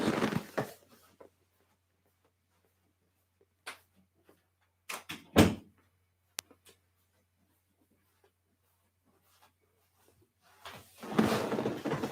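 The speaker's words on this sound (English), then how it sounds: "Let me try and shut that door real quick" Home office door being shut amid scattered handling noises, a few quiet knocks and a sharp, close thump with a brief click afterward, set among long silent gaps with rustling at the start and end.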